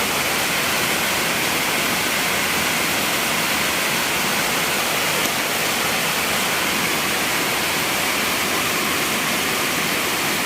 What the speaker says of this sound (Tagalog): papasok na yung tubig sa bahay namin